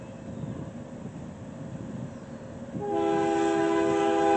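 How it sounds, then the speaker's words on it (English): A southbound Q subway train rumbles past, then its horn blasts in a loud, steady, sustained chord that drowns out the rolling noise. "this other southbound Q train came through"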